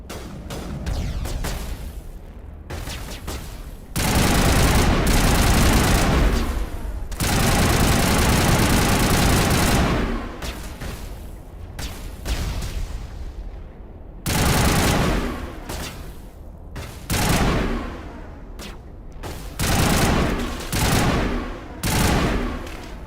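Sustained gunfire in Mass Effect rattles in long loud bursts, broken by short pauses and then a string of shorter rapid volleys, dense and fairly close over a low rumble.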